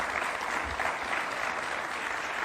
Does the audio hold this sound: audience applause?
yes